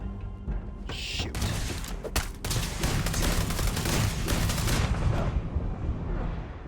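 Heavy bursts of gunfire from a powerful weapon in the Starfield video game, dense overlapping blasts and impacts filling the scene continuously, with a sharp initial shot near the start.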